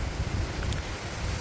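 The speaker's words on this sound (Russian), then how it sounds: "Сегодня очень ветрено. Ветреная такая погода сильно." Strong wind in a village garden gusts across the microphone as a steady, low, buffeting roar, close and continuous, with no one speaking.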